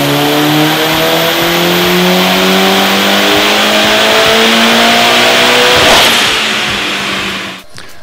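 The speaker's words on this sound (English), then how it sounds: "Okay, we've just done our two power runs at our targeted boost pressure of 26 psi." A turbocharged car engine on a power run at 26 psi of boost roars loud and close as it revs up steadily through the gears, with rising harmonic tones over about eight seconds before easing off at the end.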